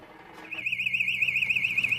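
A shrill, warbling alarm starts abruptly and rings steadily at a high pitch, loud and close.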